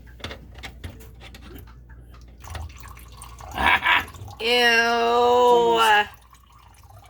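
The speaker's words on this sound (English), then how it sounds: "Is it dripping?" Faint, scattered drips fall from a leaking kitchen garbage disposal under the sink, followed by a short exclamation and a drawn-out voiced sound from a person close by.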